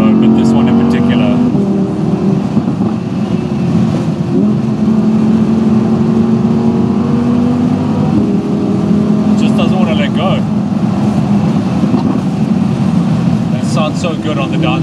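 An Audi R8 engine downshifts on a mountain road, revs rising and falling in loud blips with a continuous deep drone, close and prominent, with a voice talking over parts of it.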